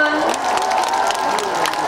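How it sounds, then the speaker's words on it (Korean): Audience applause at an outdoor summer trot concert at a shipbuilding and marine festival in Ulsan, a dense steady patter of many hands with crowd noise filling the whole stretch, with a voice heard through it. "박수 한번 주세요, 여러분"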